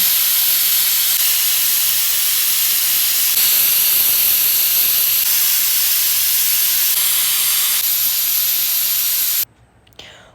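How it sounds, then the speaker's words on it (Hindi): A steady, loud hiss of escaping steam from a pressure cooker whistle runs continuously for several seconds, then cuts off abruptly near the end. "फिर मैं इसे बंद कर कर लगा दूंगी सीटी"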